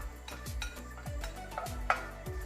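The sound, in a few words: stirring chicken arroz caldo with oatmeal in a pot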